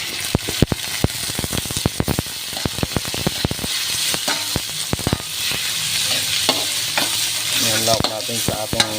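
Meat sautéing in a pan for adobong kangkong, following onions: a steady close sizzle and frying hiss, broken by frequent sharp clatters of stirring against the pan.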